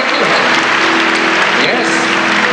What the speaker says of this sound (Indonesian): Berikan tepuk tangan yang lebih meriah lagi buat Tuhan.